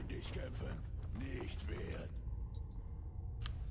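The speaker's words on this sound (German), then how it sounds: "Ein Ventilator." A creaking fan in the video game Fallout 4 gives slow mechanical groans and creaks, loud for about two seconds and then dropping off into quieter faint mechanical ticks.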